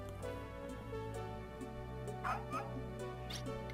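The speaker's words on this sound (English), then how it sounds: "It's the dog from earlier." A puppy yips and barks in the Wild ARMS 2 video game, several short bright barks scattered over a steady synthesized music bed, the loudest pair near the end.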